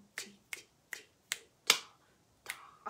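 Fingers snapping out a quaver rhythm in a piano lesson, seven crisp clicks in an uneven pattern, close and clear with no speech.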